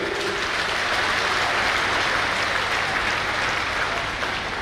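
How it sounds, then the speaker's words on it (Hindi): An audience at an ashram yajna closing ceremony applauds a welcomed guest, dense and loud clapping sustained evenly throughout. "इनके स्वागत में जोरदार तालियों के साथ स्वागत करें"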